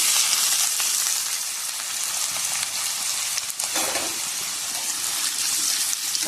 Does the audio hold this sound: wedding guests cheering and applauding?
no